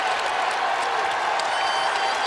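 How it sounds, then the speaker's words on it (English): A basketball arena crowd applauds and roars in a dense, steady wash of clapping and noise that fills the whole moment at a loud level. "here comes the crowd"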